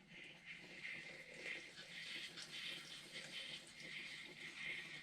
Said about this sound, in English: Alright, I'm going to rinse her down.